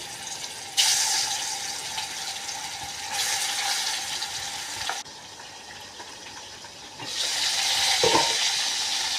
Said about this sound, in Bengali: মাছগুলো একটু ভেজে নেবো